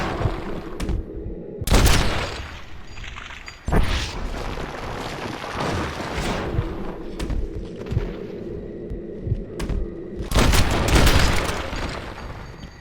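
Gunfire in the video game Red Dead Redemption: Undead Nightmare, loud booming shots bursting at intervals over a dense rumbling game soundscape.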